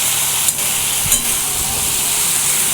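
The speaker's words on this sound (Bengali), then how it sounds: "দিয়ে দেওয়ার পর এটা ভালো করে ভেজে নিতে হবে একটু 2-4 মিনিটের মতো।" Malabar spinach (pui shak) frying in a pan, a close, steady hiss of sizzling with two brief stirring knocks.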